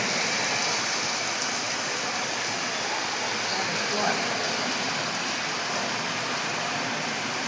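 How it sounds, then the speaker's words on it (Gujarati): Dense, steady roar of heavy rain pouring down, continuous and loud without a break. "અંધારાધાર વરસાદ વધી રહ્યો છે"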